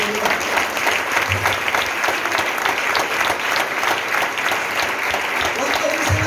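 Loud, steady applause from a church congregation during a prayer service, sustained dense clapping throughout with some voices mixed in beneath it.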